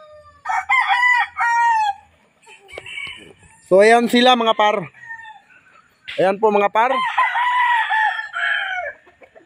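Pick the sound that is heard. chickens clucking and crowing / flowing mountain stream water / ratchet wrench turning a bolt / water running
chickens clucking and crowing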